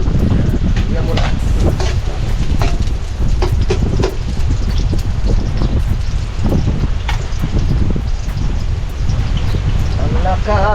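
Strong wind blusters outdoors against the microphone in a continuous loud roar with gusty rumbling, heard throughout while a person speaks faintly underneath.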